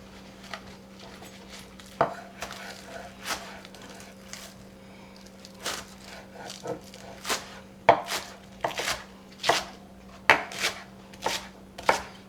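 A knife roughly slices through bunches of green onions on a cutting board, with irregular crisp knocks that grow busier and closer together toward the end over a low steady hum.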